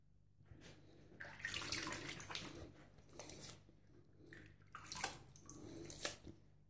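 Water runs and splashes from a tap as a straight razor is rinsed clean after a shaving pass, arriving in several close bursts of spray and trickle with quiet gaps between them.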